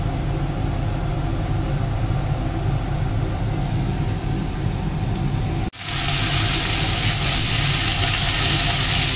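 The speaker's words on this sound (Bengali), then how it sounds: "মা এখানে বাকি সবজিগুলো ভাজতে ছেড়ে দিল" Aubergine, green banana, carrot and beans fried in hot oil in a home kitchen, giving a steady loud hiss that cuts out briefly, then returns brighter and louder as more vegetables go into the pan.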